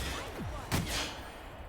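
A single loud shotgun blast rings out in The Outer Worlds, a sharp boom with a brief sweeping tail over steady game ambience.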